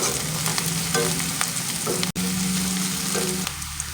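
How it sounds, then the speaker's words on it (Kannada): Mint and garlic frying in a pan for biryani, a close continuous sizzle with light stirring scrapes and a brief dropout midway. "ಇವಾಗ ಇದನ್ನೆಲ್ಲ ಚೆನ್ನಾಗಿ ಕೆಂಪಾಗಂಟ ಫ್ರೈ ಮಾಡ್ಕೊಳ್ಳೋಣ"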